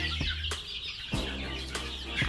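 Newly hatched chicks from a homemade incubator, cheeping in short, repeated high calls close by, with a low background hum and no talking.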